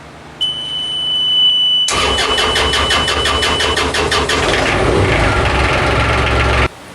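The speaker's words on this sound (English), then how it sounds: "The moment of truth for starting the motor, the engine." A steel sailing yacht's motor cranks with a rapid rhythmic chugging, catches and then runs steadily at a loud, close level for several seconds before cutting off abruptly.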